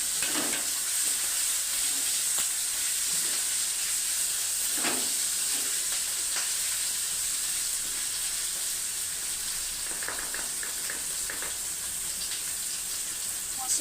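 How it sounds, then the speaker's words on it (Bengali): Tomato and ground spice paste fries steadily in a pan with a constant hiss and sizzle, broken by occasional spoon scrapes and stirring clinks, close and unvoiced throughout. "বাটা দিয়ে দিলাম, টমেটো দিয়ে ভালো করে ভেজে নেব।"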